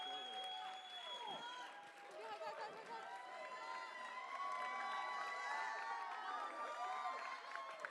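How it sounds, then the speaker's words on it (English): A crowd at the Iranian Student Group's annual culture show at UCLA applauds its hardworking helpers. Faint, distant clapping mixes with cheers, shouts and whistles that swell slightly toward the end. "Give all of these hardworking people a round of applause."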